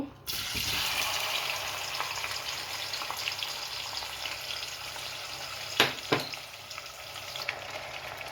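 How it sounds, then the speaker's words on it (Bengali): Chopped onions hit hot olive oil in a pan and sizzle loudly and steadily at close range, with a couple of brief clatters of stirring partway through and no talking. "তেলটা প্রায় গরম হয়ে গিয়েছে আমি এখন এই যে কুটে রাখা পেঁয়াজ দিয়ে দিব"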